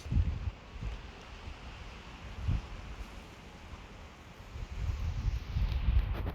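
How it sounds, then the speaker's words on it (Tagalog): Strong wind gusting and roaring in a snowstorm, with low rumbling buffets that swell and fade, loudest toward the end. "Saka ang hangin."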